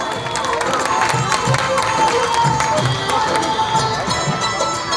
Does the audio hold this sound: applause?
yes